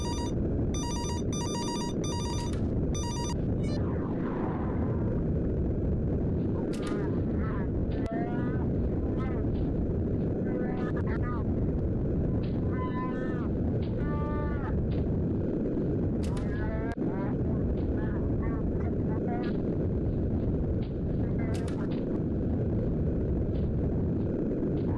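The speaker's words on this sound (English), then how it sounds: "We also get a phone call, and it sounds like this." Muffled, distorted phone call from a FNAF horror game: a smeared, crackling voice buried in constant rumbling static, with sharp high bursts near the start and scattered warbling fragments across about 25 seconds.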